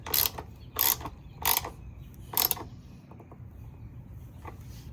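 A Suzume 4-in-1 ratchet wrench clicks in four short bursts of ratcheting, loud and close, then leaves a quiet, faint mechanical tail with no voices.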